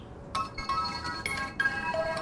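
A mobile phone plays its ringtone for an incoming call, a short bright melodic tune of chiming notes over a faint noisy background, with no one talking.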